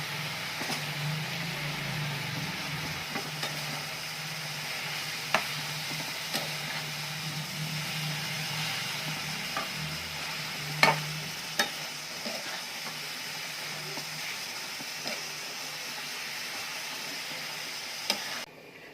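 Dill greens and chana dal being stirred in a pan, with a faint, steady low sizzle broken by occasional sharp scrapes and taps of the spoon against the pan, fairly quiet and without talking.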